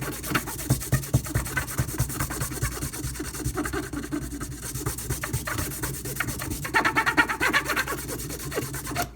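Sharpening strop compound is rubbed across the top of a strop in a quick, scratchy back-and-forth. The strokes come in irregular bursts that grow busier near the end, with no speech.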